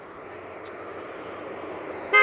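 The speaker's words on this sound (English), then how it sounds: "Oh yeah, it did honk." A passing blue truck sounds a short, loud horn honk near the end, standing out sharply over a steady wash of road traffic noise.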